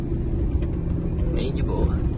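A Volkswagen Constellation truck's engine drones low and steady in fifth gear while descending a mountain road, a continuous muffled rumble heard from inside the cab.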